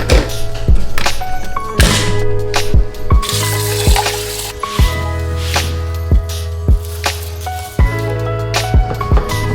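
Carrots cook in a pan with water added, a spatula knocking and scraping against the metal in irregular loud clacks over a gentle background sizzle.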